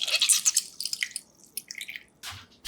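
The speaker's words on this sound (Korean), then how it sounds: "부른 호박은 물기를 꾹 짜서" Water is squeezed out of soaked, aged pumpkin by hand, giving a string of small wet drips and squelches, close and fairly quiet, in short irregular bursts with brief gaps and no talking.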